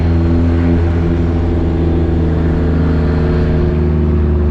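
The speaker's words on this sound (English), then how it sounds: "we're very slowly heading out because we're stuck behind this semi on a one-lane little road through town here" A car towing a loaded trailer creeps slowly along a narrow one-lane road through town behind a semi, with a loud, constant engine drone and road rumble heard close from inside, no voices.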